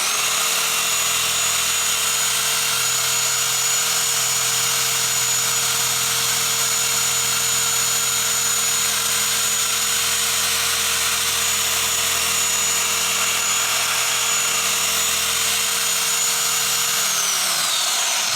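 An orbital polisher works the paint on a 1990 Lamborghini Countach, a constant whirring electric hum with a high whine held steadily throughout, then winding down at the very end; no talk.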